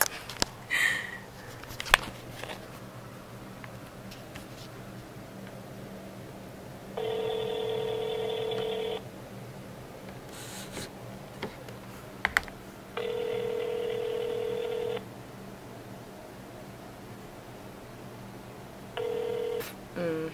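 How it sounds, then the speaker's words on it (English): A cellphone call rings out: steady ringback tone bursts of about two seconds repeat every six seconds, with faint room noise and small handling clicks in between. "I'm going to call him real quick so he can see his phone."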